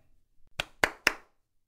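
Three sharp hand claps in quick succession, close and crisp, each a single bright slap that fades fast, after a little faint murmur in an otherwise quiet room during a podcast recording.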